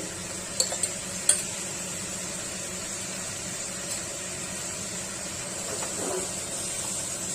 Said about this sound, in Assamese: এতিয়া ইয়াত ভাজি লোৱা পটলকেইটা দি দিম।